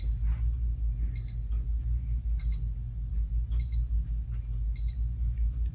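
A GermAwayUV 60-watt tabletop 254 nm UV sanitizer gives its countdown: five short, high beeps at an even interval of about a second, over a low steady hum.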